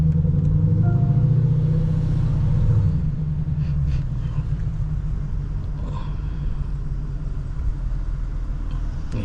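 Lexus LC 500 pulling out slowly in manual mode, its engine giving a steady low rumble close by, louder for the first few seconds and then settling into an even idle-like drone.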